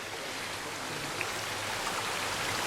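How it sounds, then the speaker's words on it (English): Steady, close rush of falling water from a waterfall on a walk near Buttermere in the Lake District, a continuous broadband roar with no breaks and no voices. "it gives us a chance to get a close-up of one of the waterfalls"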